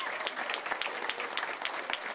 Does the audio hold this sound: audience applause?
yes